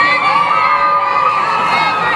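A crowd at a Cinco de Mayo taco eating contest cheers and shouts continuously, high excited voices and whoops blending into a loud, steady roar.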